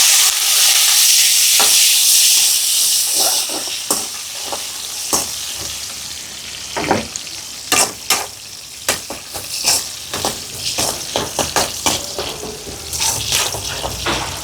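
Mustard seeds, green chillies and curry leaves sizzle and crackle in hot oil, a steady frying hiss broken by sharp popping bursts from the seeds, close and loud with no talking.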